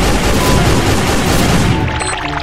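Sustained, dense light machine gun fire in a video game, loud and continuous with booming impacts blended in, tapering slightly near the end.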